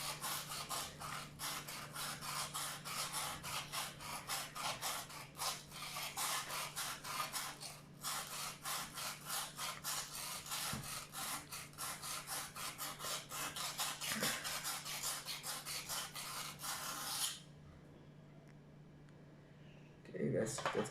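Rapid, steady rasping strokes of a knife edge on a cheap whetstone, a dense scraping rhythm under a constant low hum, ending in quiet.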